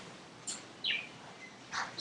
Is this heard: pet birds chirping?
yes